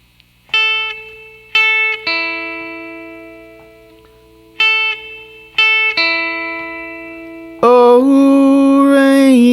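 An electric guitar plays a country lick from a song, with plucked notes and a pull-off ringing out and decaying, followed by a louder, brighter sustained chord at the end.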